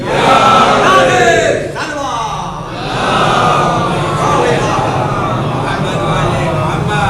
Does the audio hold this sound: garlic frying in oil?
no